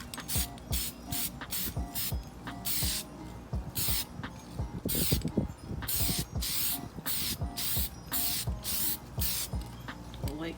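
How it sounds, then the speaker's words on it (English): Rustoleum satin black spray paint going onto a cleaned, prepped BMW E30 front valance, heard as a long run of short, rhythmic aerosol hiss bursts that are close and fairly loud, with no talk. "So painting it black"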